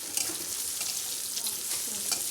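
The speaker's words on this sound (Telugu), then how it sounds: "పచ్చి వాసన పోయే వరకు ఫ్రై చేసుకోవాలి." Chopped onion frying in a pan with ginger garlic paste and turmeric, a steady close sizzle with faint stirring scrapes, no talking.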